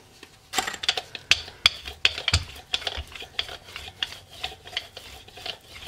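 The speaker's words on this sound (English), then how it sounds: "just kind of squiggle my brayer back and forth" Rubber brayer squiggled back and forth over a gelli printing plate, mixing paint colors: a series of sticky, raspy rolling strokes in an irregular rhythm, close and fairly quiet, with no talking.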